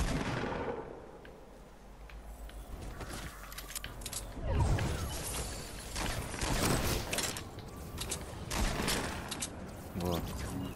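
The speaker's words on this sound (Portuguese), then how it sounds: "Onde o Blarno tá atirando ele." Rapid gunfire bursts in the Fortnite video game, repeated throughout amid game effects, with players talking over the action.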